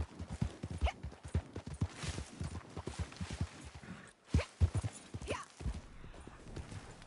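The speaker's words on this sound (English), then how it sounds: "Reach me, horse." A horse's hooves clip-clop across the ground in the video game Red Dead Online, a fairly close, irregular run of hoofbeats with a brief pause midway, accompanied by snorts and a faint whinny.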